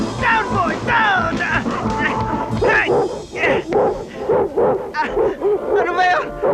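Deep, loud barking from a big Doberman comes in repeated bursts while several people talk and call out over it.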